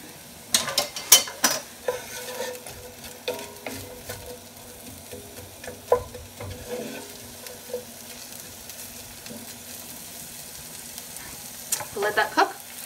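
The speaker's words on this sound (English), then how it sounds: "You want to make sure that you hear the sizzle when you put your food in." Cod sizzles and crackles in a hot pan, with intermittent scraping and clinks of utensils stirring nearby.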